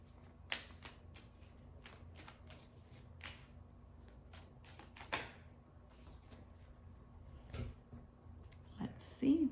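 Tarot-style mini cards shuffled by hand in a quiet room, a steady run of soft riffling flicks with a few sharper snaps, and a louder card draw and tap near the end.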